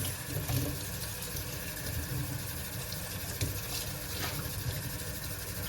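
Tap water runs steadily over a lace wig during a quick rinse, a constant close splashing wash with no voices.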